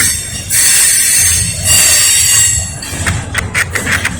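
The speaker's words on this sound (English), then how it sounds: "This train reminds me of Hobo Shoestring." A Norfolk Southern intermodal freight train rumbles past close by, steady and loud, with squealing wheels and rhythmic clicking toward the end.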